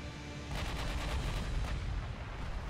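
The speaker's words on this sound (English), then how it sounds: "Another volume of fire, another volley coming in" A naval gunfire volley in the battleship game Ultimate Admiral Dreadnoughts: a rapid run of heavy booming shots starting after a brief lull, then a rumbling tail.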